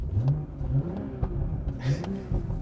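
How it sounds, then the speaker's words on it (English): A 2020 BMW M340i engine growls and revs in sport mode through a loud, deep exhaust with its baffle opened, with pulsing rises in pitch over a few seconds. "Let me go into sport mode here, and it really gets louder because it opens up a baffle in the exhaust"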